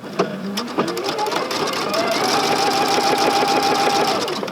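A sewing machine with a piping foot stitches a quilt binding edge, running in a loud, steady, close mechanical whir after a couple of starting clunks, with a person speaking over it.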